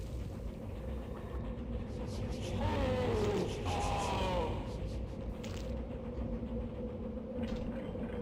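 Train sounds from the video game Blood, a steady rumbling rolling noise with a rising screeching, whining passage in the middle over a continuous mechanical bed.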